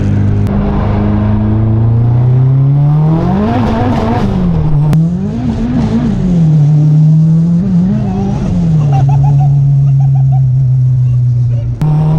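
A 661 HP Honda car accelerates hard in second gear, the engine roaring loud and close as revs climb and dip through the pull, with voices and cabin noise underneath.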